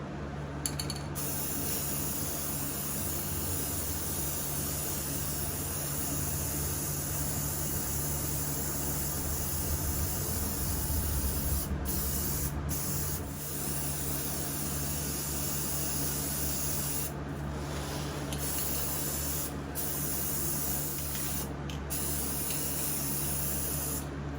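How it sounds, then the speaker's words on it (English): Spray painting furniture in an indoor spray room with ventilation, a steady loud hiss of the sprayer running continuously throughout, with a few brief breaks in the spray. "just blessed to have a spray room that we can spray in year round in our shop"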